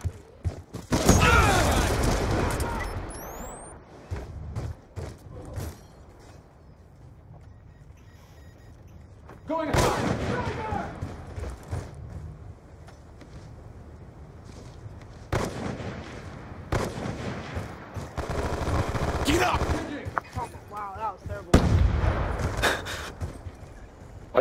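Gunfire from a laggy online video game shootout comes in several bursts of sharp cracks and rattling volleys, separated by quieter gaps, moderately loud with some faint game clatter in between.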